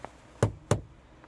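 A Škoda Superb door shuts twice with solid, close thunks, a short pause between them, and a fainter tap follows.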